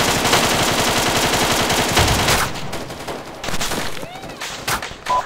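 Heavy automatic gunfire in the military shooter Arma 3, a loud sustained rapid burst for about two seconds, then scattered single shots and distant cracks, with a voice calling out near the end.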